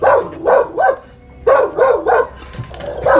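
A dog barks near a forest creek in two close bursts of about three loud, rhythmic barks each, with a short pause between the groups.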